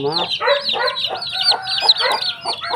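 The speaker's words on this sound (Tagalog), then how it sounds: "native chicken, no? Puro Brahma po, mga treasure." Brahma chickens with feathered feet cluck in a steady run of short, nasal calls, close by and fairly loud, with a faint crow-like note mixed in and no speech.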